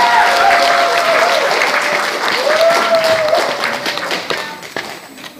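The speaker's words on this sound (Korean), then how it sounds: "여러분 큰 박수 부탁드리겠습니다." Audience applause at a seminar marking the founding of a lawyers' association at the National Assembly Library, a dense, steady wash of clapping that gradually thins toward the end, with faint voices mixed in.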